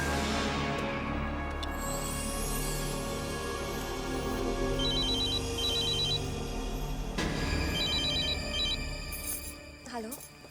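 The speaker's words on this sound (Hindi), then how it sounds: "अनुपमा दीदी को फोन करती हूँ।" A phone rings in repeated electronic trill bursts over music and background sound, with a voice audible near the end.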